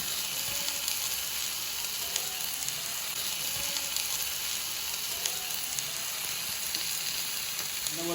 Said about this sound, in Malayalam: ചിക്കൻ നമ്മൾ ചേർത്ത് കൊടുക്കുന്നു.